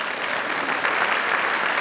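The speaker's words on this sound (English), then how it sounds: "So give them a round of applause." Dense, steady applause from a banquet audience at a school district Teacher of the Year event, continuous and fairly loud throughout with no speech over it.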